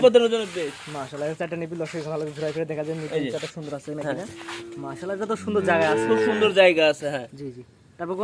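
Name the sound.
cattle at a farm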